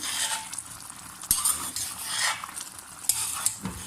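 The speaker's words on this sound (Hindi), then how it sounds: "अब इसे हम अच्छे से मिक्स कर लेंगे।" Chicken coated in homemade achari masala is stirred in a pan, with scraping and clinking of a utensil against the metal over a soft sizzle, a few louder knocks standing out and no voices.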